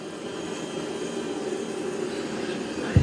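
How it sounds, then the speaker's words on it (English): A Roborock Saros 10R robot vacuum runs with a steady, even whooshing motor drone at close range, ending in a brief low bump. "It is doing a good job of vacuuming."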